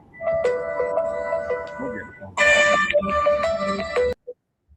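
A phone ringtone plays loud and steady for about four seconds, a layered electronic melody that jumps brighter midway before cutting off abruptly, leaving near silence.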